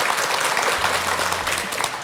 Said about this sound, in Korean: 우리 두 분 행복한 미래 위해서 응원의 박수 한번 보내드릴까요?